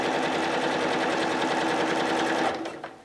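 A sewing machine stitches an artist's carrying case in a fast, steady mechanical whir up close, then slows and stops near the end.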